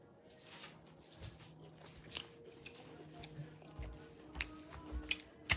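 Close, soft biting and chewing of cooked chuck steak, with irregular wet crunches and mouth clicks rising toward the end; a voice is briefly faint in the background.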